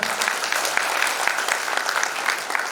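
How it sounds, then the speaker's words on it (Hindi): Audience applause at a regional youth thinking camp at Shantikunj, a steady crowd of hands clapping loudly and continuously without a break, with no voices rising above it. "एक बार अपनी ताली बजाइए जोरदार"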